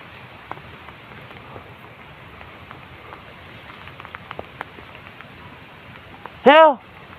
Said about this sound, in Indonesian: Duh, guys, hujan, guys.